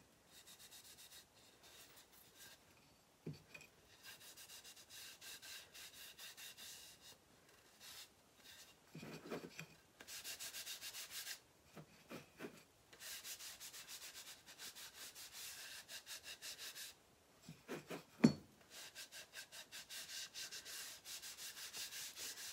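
Stained wax is rubbed over a chalk transfer on a wooden block, giving soft, close, scratchy strokes in long stretches broken by brief pauses and a few sharper knocks.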